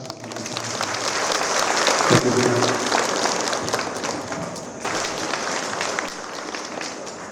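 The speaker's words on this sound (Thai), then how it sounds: "ขอเสียงปรบมือให้รับครับ" A large audience applauds at the opening ceremony of a social assistance center in Songkhla, Thailand, with dense, steady clapping that fills the whole stretch and swells slightly midway.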